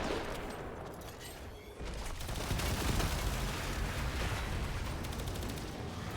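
Video game gunfire hits pylons in semi-fire mode as a steady, crackling barrage, louder after a brief dip, with dense bursts running continuously throughout.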